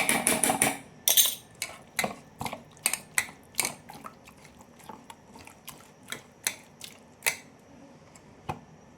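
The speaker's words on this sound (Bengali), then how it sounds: "তো এর মধ্যে আমি যে মশলাটা বেটে রেখেছি ওটা দিয়ে দেবো। তো মাছটাকে আমি ভালো করে মেখে নেব।" Prawns being mixed by hand with ground spice paste and raw mustard oil. Close, wet squishing and slapping comes in a steady, irregular rhythm of soft pulses with no talking.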